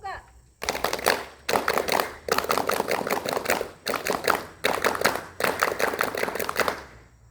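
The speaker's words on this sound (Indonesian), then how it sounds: "2 kali tepuk pramuka." A group performs the Indonesian Pramuka scout rhythmic clap twice at a Bantara scout inauguration at a high school. Six dense bursts of many hands clapping in a steady pattern are separated by short pauses.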